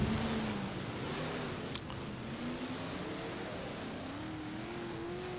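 A race car engine in the rFactor dirt track racing game hums at a steady drone, with its pitch slowly rising and falling as it revs, fairly faint and heard alone.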